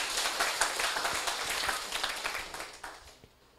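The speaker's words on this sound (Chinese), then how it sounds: "我们再次拍手谢谢他们" An audience of university students and guests claps in thanks at a seminar, a moderate patter of many hands that thins and fades toward the end, fairly distant and without talk.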